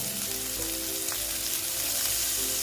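Bitter gourd sizzles in oil with a sprinkle of turmeric, a loud unbroken frying hiss close by with a low hum beneath it.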